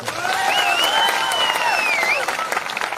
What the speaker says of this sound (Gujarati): એમના માટે પણ જોરદાર તાળીઓ પાડો.